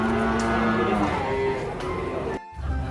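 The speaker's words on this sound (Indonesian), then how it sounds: "Sapi hitam naik truk." Black cattle low with long, deep moos, loud and close, over busy background noise and voices as they are unloaded from a truck.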